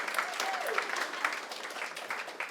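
Audience at a musical theatre show applauding steadily, a dense, even wash of clapping with a faint voice underneath.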